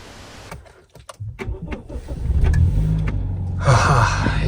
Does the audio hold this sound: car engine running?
yes